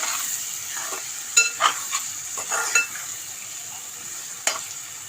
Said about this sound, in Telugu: ఇలా కలబెట్టుకుందాం నిదానంగా